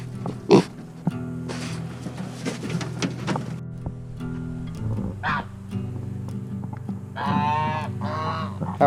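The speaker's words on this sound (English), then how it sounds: "the Idaho Pasture Pig, they're much more aggressive around feed as well" Idaho Pasture Pigs crowd around feed outdoors, giving scattered grunts, snorts and squeals, with a few louder squealing bursts toward the end among other farm animal noises.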